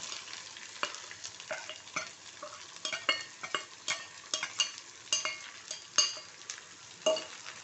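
Onions sizzle steadily in a hot pan with fried dal while a spoon scrapes and stirs in repeated strokes, close up, with light clinks against the pan.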